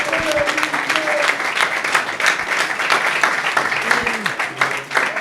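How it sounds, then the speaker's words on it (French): Audience at an entrepreneurship talk applauds as a guest is called to the podium, continuous close clapping from a crowd, with occasional voices underneath. "S'il vous plaît, sous vos applaudissements, on va recevoir Monsieur Florimbo."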